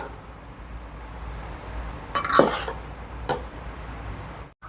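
A spatula stirs flour into cake batter in a bowl, giving a couple of brief scraping knocks over a quiet kitchen background.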